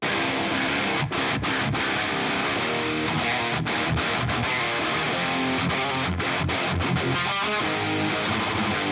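Two heavy distorted metal guitars, an Ibanez Regius 6 and a PRS Custom 22, blended together in a dense, loud, continuous wall of chugging riffs with brief stops between phrases, no voices.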